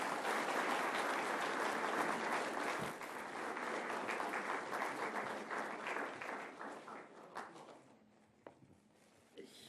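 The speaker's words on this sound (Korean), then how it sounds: "힘찬 감사의 박수를 올려주시기 바랍니다." Guests at a Korean gathering give a hearty round of thanks applause, steady crowd clapping that fades out after about eight seconds into a few scattered claps and light shuffling.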